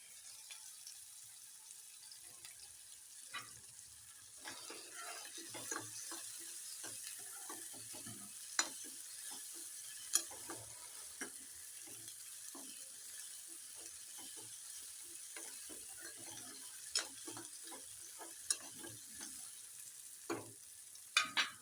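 Upma with soaked moong dal roasts in ghee in a pan, a soft low sizzle under repeated scraping and stirring strokes, with sharper clicks of the spoon against the pan at irregular intervals.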